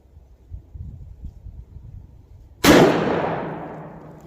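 After a low murmur, a single sharp .38 Special revolver shot cracks out at a firing range, loud and close, with a ringing tail that fades over the next second and a half.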